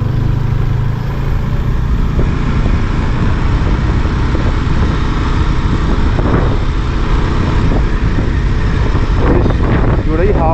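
Strong wind roaring over a microphone on a mountain road in North Sikkim on a bike ride, a loud steady rush with low buffeting throughout.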